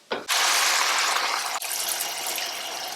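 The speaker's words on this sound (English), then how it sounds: "Now we're going to add in enough water to cover everything." Water pours steadily and loudly into a stew pot holding pork belly and dried shiitake mushrooms, a close, continuous rushing splash after a brief clatter at the start.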